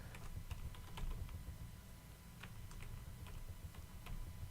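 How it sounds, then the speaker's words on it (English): Quiet, steady clicking of fingers typing on a computer keyboard, a continuous patter of soft keystrokes close by with no talking. "I gotta do some typing"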